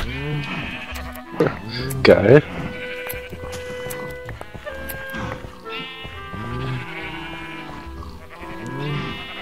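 Sheep being sheared in the Minecraft video game: blocky snipping sounds and bleating sheep amid game audio, with a louder burst around the second mark, while a person talks over much of it.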